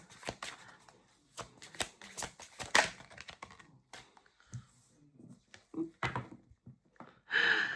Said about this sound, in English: let me get one more tarot card for the overall energy